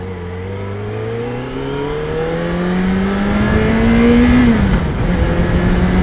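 A car accelerates hard on a test drive, its engine note climbing steadily for about four seconds before dropping sharply at a gear change, loud and close with no talking.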